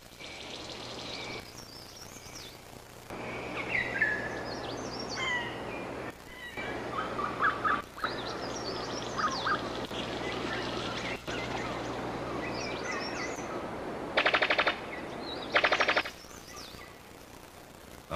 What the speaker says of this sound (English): A brown sicklebill bird of paradise.